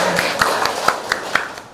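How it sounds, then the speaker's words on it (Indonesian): Hands clap in a steady, even rhythm in a classroom, about eight distinct claps at a moderate level with little else behind them. "Tepuk tangan dong."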